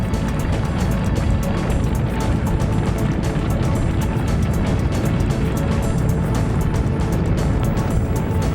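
A rocket engine roars continuously during a test firing, a loud, broadband, unbroken rumble holding steady throughout with no pauses or voices.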